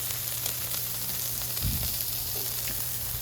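Butter melting on a hot Blackstone griddle, a steady close sizzle and hiss with a brief louder sputter partway through, no voices.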